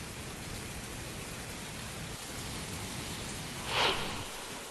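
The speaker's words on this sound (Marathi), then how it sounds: "जालन्याच्या घनसावंगी तालुक्यात मुसळधार पावसानं हजेरी लावली" Heavy monsoon rain in Ghansawangi taluka, Jalna, Maharashtra, a dense steady hiss of downpour with a brief louder gust of spatter near the end.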